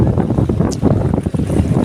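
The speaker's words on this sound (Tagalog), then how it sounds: "sobrang lakas ng alon" Strong sea waves churn around fish cages during a typhoon in Quezon, a loud continuous rush of water and wind buffeting the microphone with rough surges throughout, no voices.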